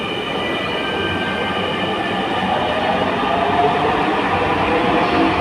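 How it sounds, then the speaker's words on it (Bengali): A metro train departs the station with a loud, steady rumble of wheels on rails and a faint high squeal, building slightly as it pulls away. "দেখতে পাচ্ছেন ট্রেনটা ছেড়ে দিছে, চলে যাচ্ছে ট্রেনটা।"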